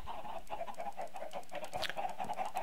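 Chickens in a Minecraft modpack game cluck in a steady, busy chorus of short repeated calls, close and fairly constant throughout, with no talking.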